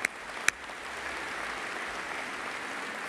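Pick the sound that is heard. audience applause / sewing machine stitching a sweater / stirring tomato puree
audience applause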